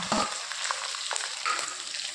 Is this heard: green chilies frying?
yes